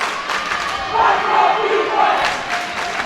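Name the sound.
crowd in the stands cheering at a girls' basketball game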